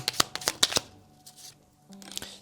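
Tarot cards are shuffled up close in a quick burst of sharp riffling snaps, followed by softer sliding and shuffling, with a faint hum underneath.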